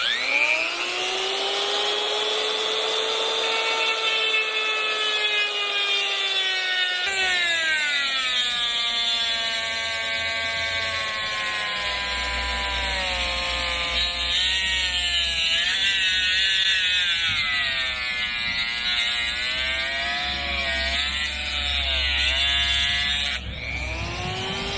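A Dremel cutoff wheel grinds into a steel bearing, a loud high whine that drops in pitch as it bites, then wavers and rises under load, continuous with no talk.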